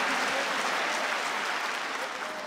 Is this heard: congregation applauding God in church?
yes